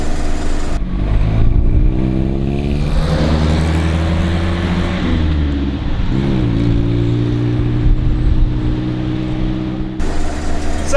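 Series 1 Land Rover engine while driving on a quiet road once warmed up, a loud close droning motor rising and falling in pitch through gear changes, with rattling cabin noise and no talk.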